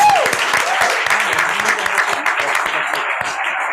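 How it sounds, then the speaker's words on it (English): A round of applause from the audience at a school board meeting, dense, steady clapping filling the room for several seconds. "Round of applause."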